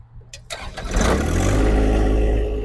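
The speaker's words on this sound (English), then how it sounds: "So first we're going to crank the machine." A John Deere 1025R compact tractor's engine cranks briefly, then catches and settles into a loud, steady diesel idle close by.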